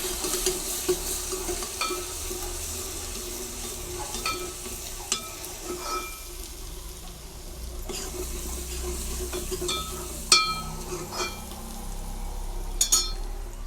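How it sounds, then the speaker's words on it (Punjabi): Garlic and ginger paste fries with dry spices for a dhaba-style kala chana curry, giving a continuous close sizzle broken by scattered spoon scrapes and metallic clinks against the pot. "ਆਹ ਲਾਸਣ ਤੇ ਅਦਰਕ ਦਾ ਪੇਸਟ ਇਹਨੂੰ ਥੋੜਾ ਜਿਹਾ ਬਰਾਊਨ ਕਰਾਂਗੇ ਆਪਾਂ"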